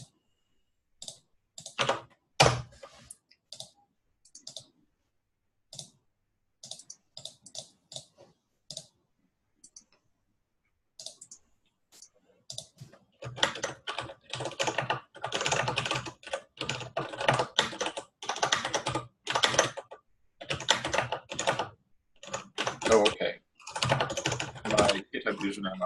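Typing on a computer keyboard during a meeting, sparse keystrokes at first, then a dense, steady run of close, crisp clacking in the second half, with short bits of talk in between.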